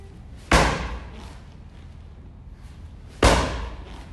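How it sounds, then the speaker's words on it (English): Two sharp, loud thumps of a roundhouse kick striking a kick target in a martial arts demonstration, spaced about three seconds apart, each decaying quickly into a quiet room. "now I'm going to use the target to demonstrate for you the effectiveness, efficacy of that back or roundhouse kick."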